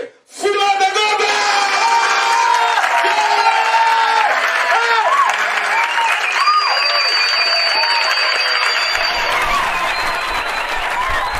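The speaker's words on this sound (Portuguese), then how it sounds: "vamos aplaudir ele que é o Gilmário Vemba" Comedy show audience applauding and cheering as comedian Gilmário Vemba is introduced at a March 8 special, loud sustained clapping with whoops and shouts, while music with held tones plays underneath and fades out near the end.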